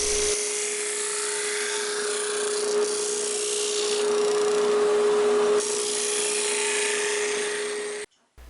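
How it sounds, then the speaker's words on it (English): Router with a 1/8 inch round-over bit rounding the edges of a glued-up wooden kitchen knife, a steady high whining rasp running continuously for about eight seconds, close and loud, then cutting off abruptly. "This 1/8 inch round over router bit came as part of a set"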